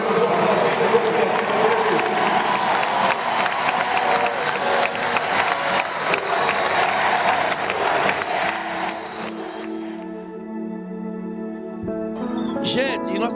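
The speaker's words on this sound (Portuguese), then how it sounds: "Eu vou pedir que nós demos um aplauso ao Senhor." A large church convention crowd applauds and cheers in a dense, steady roar for about nine seconds, then it thins out and gives way to quieter tonal sounds.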